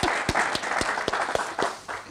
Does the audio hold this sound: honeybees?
no